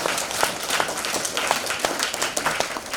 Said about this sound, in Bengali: ওনার জন্য একবার জোরে আমি হাততালি চাইব।